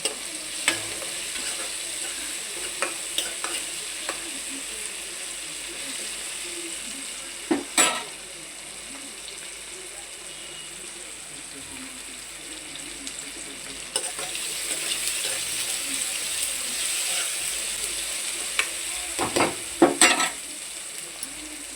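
Dry vermicelli sizzles and crackles in a hot pan, with occasional scraping stirs and clinks throughout; no talking.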